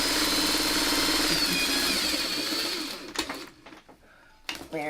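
A sewing machine stitches a pinwheel quilt block, whirring steadily and loudly for about three seconds before stopping, followed by quieter handling noises and a short burst of sound at the end.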